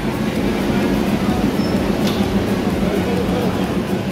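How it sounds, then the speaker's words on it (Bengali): The Darjeeling toy train rumbles steadily at Ghum station during the monsoon, a continuous low mechanical roar with a faint hiss and no clear breaks. "এই হচ্ছে টয় ট্রেন"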